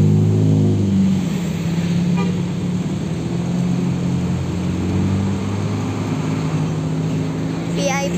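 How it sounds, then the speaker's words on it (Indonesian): Agramas VIP-class intercity bus on a road during post-Lebaran return traffic, its engine rumbling loud and steady as it passes close by, with a faint chirp near the end. "Ada bus Agramas."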